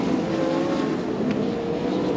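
Sprint race cars from Rocket Industries lap a dirt speedway at an Australian Speedweek night meeting, a continuous loud engine roar holding steady throughout with no voices.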